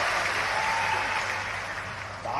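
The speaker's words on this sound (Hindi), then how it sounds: "ताली पीछे से कम बज रही है।" An audience applauds at a political rally with the chief minister of Madhya Pradesh, a dense continuous clapping of a large crowd that fades slightly before swelling again at the end.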